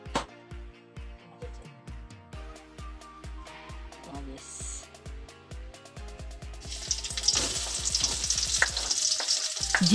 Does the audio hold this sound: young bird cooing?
no